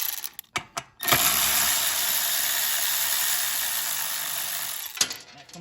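A hand ratchet backs a 10mm nut off the carburetor of a Generac GP5500 generator, a few quick clicks, then a long, steady, close run of rapid ratcheting ending in a sharp click.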